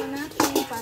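A lid goes onto a pot of simmering chicken tinola, a quick metallic clatter and clink of pot and cover in one short burst.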